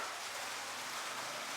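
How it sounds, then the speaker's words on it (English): Steady rain falls during a motorbike trip in Vietnam, a dense even hiss of drops with no gaps and no voices, fairly soft and constant throughout. "And the rain properly picked up. Man, it's raining."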